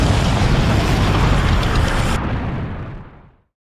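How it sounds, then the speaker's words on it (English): Loud, sustained explosions as a three-headed monster's gravity beams blast apart a military outpost, a dense continuous roar that fades out over the final second with no voices. "Ghidorah begins firing his gravity beams at Castle Bravo, resulting in several parts of the outpost being destroyed."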